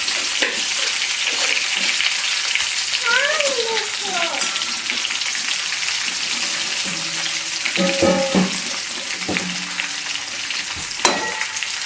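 Stuffed okra (bhindi) fries on low gas in a pan, a steady close sizzle with scraping stirs and clinks throughout, alone with no voices.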